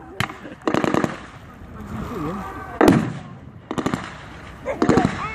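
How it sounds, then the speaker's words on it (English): Mortar fire at a World War 2 reenactment at Crowle comes as several sharp, rattling bursts and one heavy thump, spaced a second or so apart, with someone talking between them. "Now the Germans are mortaring this recon unit."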